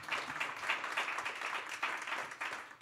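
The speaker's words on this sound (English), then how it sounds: "You can clap. That's okay." An audience at an adolescent mental health panel gives brief, moderate applause, a scattered patter of clapping with no talk over it.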